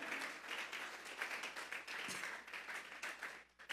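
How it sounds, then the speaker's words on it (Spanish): Church congregation clapping together in steady, dense applause during a Spanish-language sermon, loud and continuous with a brief dip near the end. "Vamos a regalarle ofrenda de palmas al Dios de la gloria."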